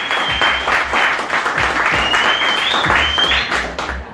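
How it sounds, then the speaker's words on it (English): An audience at a spoken-word poetry event claps steadily in a dense burst of applause, with a loud whistle running over it and some cheering voices. "give a hand clap to yourself"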